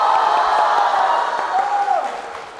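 A crowd at a Chinese crosstalk comedy show claps in sustained, dense applause that fills the room, loud and steady, then eases off slightly toward the end.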